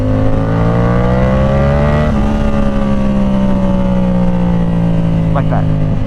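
A Yamaha R7 motorcycle with its CP2 parallel-twin engine runs loud and close, the exhaust note holding a sustained harmonic drone that rises slightly, then eases steadily lower over several seconds.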